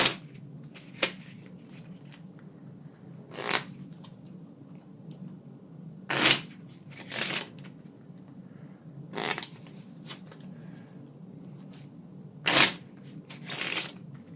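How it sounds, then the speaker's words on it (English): Dragonwood playing cards are shuffled in several short riffling bursts spaced a few seconds apart. Each burst has quick flutters close up over a quiet room. "So what I always shuffle up first."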